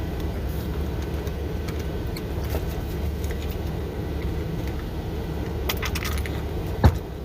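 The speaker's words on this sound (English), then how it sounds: "so I'm just going to start prying at it with a flathead." Flathead screwdriver prying at the plastic housing of a Hoshizaki condensate pump, a scrape and a sharp snap near the end over steady low background rumble.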